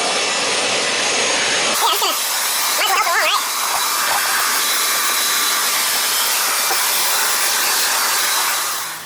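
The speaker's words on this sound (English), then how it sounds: "It's my vac right there. It's a Bissell Garage Pro." A Bissell Garage Pro vacuum runs with a steady, loud hissing whine that fills the space, while a person talks briefly over it.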